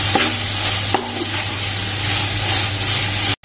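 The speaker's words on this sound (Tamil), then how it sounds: "இப்போ தக்காளி பழம் லேசாக வதங்கிடுச்சு." Chopped tomatoes sautéing with ginger and garlic for mutton biryani crackle in a hot pan, a loud, continuous sizzle broken by a couple of sharp spatula knocks before an abrupt cutoff near the end.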